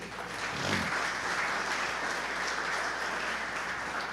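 A church congregation applauds at a Pentecostal service, a steady wash of many hands clapping at fairly even loudness throughout, continuing without a break and with no talk over it.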